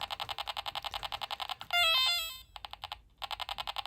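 Rapid repetitive electronic beeps from an Apple IIc computer game after a crash pulse in a steady rhythm, broken by a burst of warbling synthesized tones and a brief gap, then the beeping resumes.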